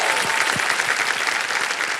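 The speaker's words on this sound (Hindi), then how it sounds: "एक बार फिर तालियां बज जाए" Studio audience on the KBC Season 16 game show set applauds steadily, a dense continuous wash of many hands clapping at moderate loudness, with no talking over it.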